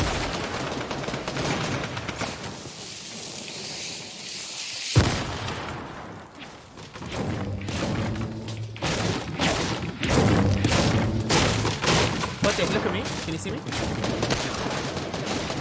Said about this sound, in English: Somebody shoots us.